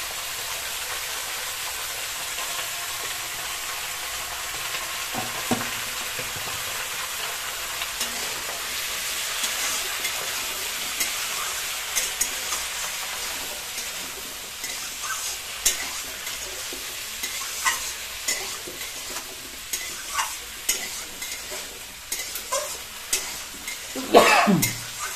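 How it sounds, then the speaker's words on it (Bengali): Tilapia curry with salt and turmeric is stirred in a pan over a soft steady sizzle, with scraping and clinking of the spoon growing more frequent and louder toward the end. "আমরা মোটামুটি এটাকে কিছুক্ষণ ধরে নাড়াতে থাকবো।"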